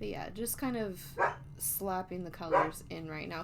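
A curious pet dog barks and yips repeatedly in short bursts close by, mixed with a person talking indoors.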